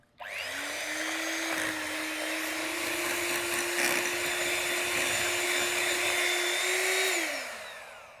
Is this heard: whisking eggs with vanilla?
yes